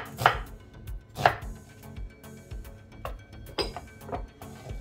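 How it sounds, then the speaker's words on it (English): A knife chops onions on a cutting board in a home kitchen: sharp, close knocks in an uneven rhythm, a few harder strikes standing out, with no talking. "go ahead and cut your onions."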